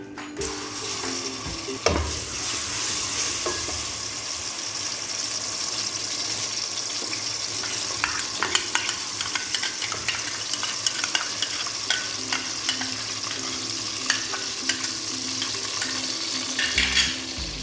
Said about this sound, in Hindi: इसको थोड़ा सा भूनना है ताकि लहसुन अदरक की खुशबू ख़त्म हो जाए